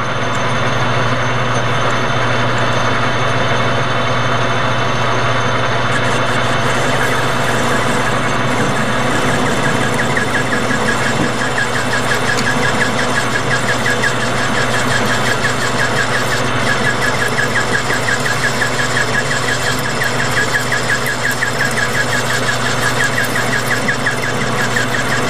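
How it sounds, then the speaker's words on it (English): A metal lathe runs slowed down with the carriage locked, parting off a part for a pistol grip air gun; a loud continuous whirring drone with a faint steady squeal of the cut throughout. "Alright, let's part this thing off."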